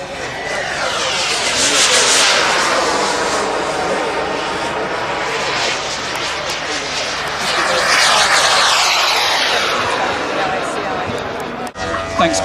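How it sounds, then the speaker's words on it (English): A model aircraft takes off at an air show, its engine droning loud and steady. The pitch rises and falls as it passes overhead, with faint crowd noise behind. "what has just taken off is their new model for this year"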